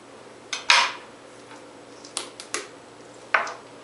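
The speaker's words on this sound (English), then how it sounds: "and with a knife we'll be slicing right in between the bones over here" A knife cuts through raw chicken between the leg bones, giving a few sharp, close clicks and scrapes spread apart by quiet gaps.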